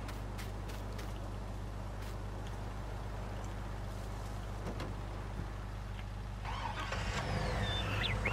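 Steady low drone of a pickup truck engine towing a trailer in Farming Simulator 19, a constant rumble with faint clicks, swelling louder and rougher near the end as the load moves.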